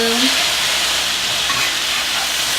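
Vegan pulled pork in barbecue sauce sizzles steadily in a hot pan while being stirred, a loud, even hiss throughout with no talking.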